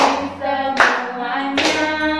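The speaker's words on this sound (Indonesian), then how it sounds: "tepuk 3 jari, tepuk 4 jari, tepuk 5 jari." Young kindergarten children clap in a finger-clapping game during an Easter class session, with steady bright clapping throughout and two louder bursts marking the counts.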